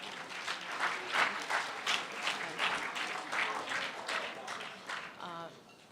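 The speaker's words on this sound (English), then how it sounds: "give yourselves a round of applause for that" A school assembly audience applauds, a dense, sustained clapping that swells and holds at moderate loudness, then tapers off as a voice begins to speak near the end.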